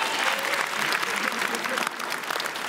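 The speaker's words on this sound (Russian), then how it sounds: "Под ваши аплодисменты." Applause from the studio audience at a comedy roast show, a dense, loud burst of clapping from a large crowd that fills the moment, with some voices mixed in.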